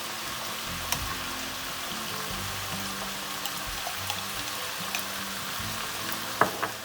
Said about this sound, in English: I have sauteed this for about 2 minutes